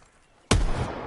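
MOG gun in Call of Duty: Black Ops 4 Blackout firing after a quiet lead-in, a single sharp loud blast whose rumbling tail rings on to the end.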